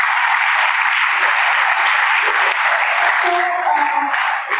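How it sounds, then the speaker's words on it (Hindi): Students at a motivational talk for board-exam pupils applaud a classmate, a loud, dense, steady burst of clapping filling the whole stretch, with a voice starting to speak toward the end. "एक बार जोरदार तालियां इनके लिए"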